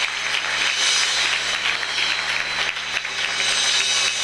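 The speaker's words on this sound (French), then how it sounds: "Donnez une forte acclamation." A Sunday church congregation breaks into loud, sustained applause and acclamation, a dense unbroken wall of clapping and cheering filling the hall.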